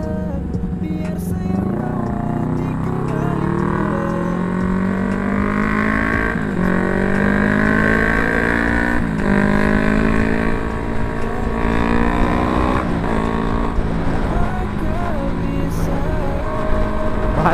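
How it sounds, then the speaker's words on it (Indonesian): The loud aftermarket exhaust of a Kawasaki Ninja 250 FI motorcycle roars close by, revving up and down through rising and falling pitch sweeps with sharp shifts, continuous and dominant. "Bacot knalpotnya, bacot cuy."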